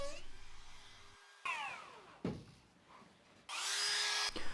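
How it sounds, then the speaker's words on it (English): A power tool cutting a slot in a wooden board to take tabletop clips, sounding in several short bursts of whining, spinning-up cuts separated by brief pauses and workshop noise. "I'm cutting this slot so I can secure the top using clips"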